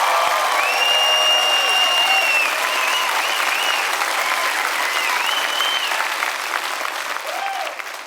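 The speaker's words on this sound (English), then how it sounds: "Give them a big round of applause," A large comedy-show crowd breaks into sustained, loud applause for the U.S. military, a dense steady roar of clapping with whistles rising over it before it slowly tapers off.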